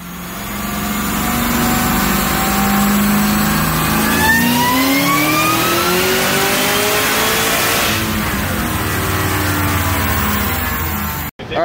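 A Cadillac CTS-V with a ported LSA supercharged engine runs a dyno pull, roaring loud and close as its pitch climbs steadily through the revs before cutting off abruptly at the end.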